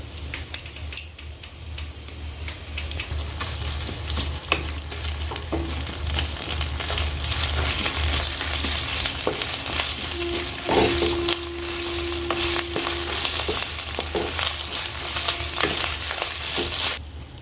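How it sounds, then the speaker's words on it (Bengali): Steady loud sizzling of onion and garlic frying in a hot pan, with occasional stirring scrapes and a brief faint tone partway through. "পেঁয়াজ রসুনটা ভাজা হয়ে গেছে, এবার আমি আদা বাটাটা দিয়ে দেব।"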